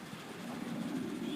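Young homing pigeons, still squeakers, give low, soft cooing from a loft. The sound is a faint, continuous murmur over light background noise.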